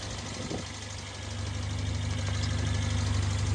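A turbocharged four-cylinder engine of a 2017 Mercedes A45 AMG idles with a low, steady rumble, rising slightly in intensity midway, with no voices.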